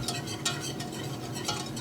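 Flour mixture is stirred in a pan on the stove for a cheese sauce, giving quiet, rhythmic scraping strokes about every half second under a faint sizzle.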